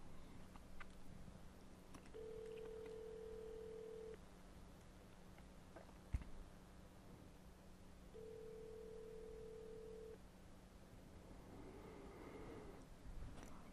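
A phone call goes unanswered as the ringback tone sounds twice, each a steady two-second tone separated by a long gap, faint over a quiet line hum.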